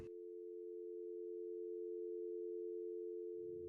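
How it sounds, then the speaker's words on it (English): A telephone call cuts off and a steady, continuous dial tone hums on its own for several seconds at moderate level, preceded by a brief click at the start. "the phone would disconnect for a final time."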